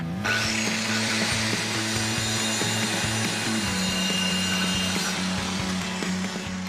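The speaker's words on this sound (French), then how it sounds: "si on veut faire de belles coupes, la scie circulaire est beaucoup plus fiable" A circular saw cutting through material in a workshop runs steadily and loud from start to finish, a continuous whining drone with a low motor hum and scattered rattling clicks.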